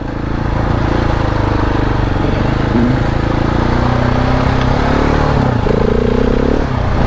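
A KTM 690 enduro motorcycle rides off-road on the Trout Valley trail, its single-cylinder engine droning loud and close without pause, with a brief shift in pitch near the end and gear clatter underneath.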